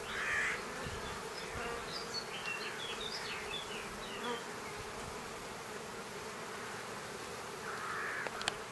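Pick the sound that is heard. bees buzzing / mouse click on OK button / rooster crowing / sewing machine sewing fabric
bees buzzing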